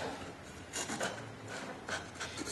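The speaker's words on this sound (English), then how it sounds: "Flush cut." Flush cut saw trimming a wooden dovetail joint, a faint rasping scrape in short repeated strokes close by, with no talk.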